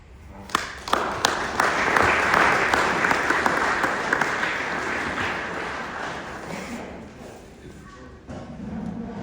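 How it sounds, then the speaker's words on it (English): Sustained applause from a large crowd at a high school football banquet, loud and steady for several seconds before gradually thinning out, with occasional sharper claps standing out. "Give yourself an applause because you are special."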